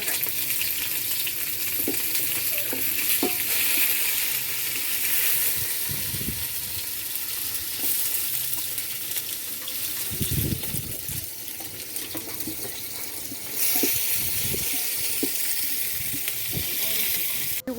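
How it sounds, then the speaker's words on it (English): Onions fry in oil in a pot during village cooking in central Kenya, a steady close sizzle with occasional scraping stirs and knocks, continuing throughout. "We add oil, then we add"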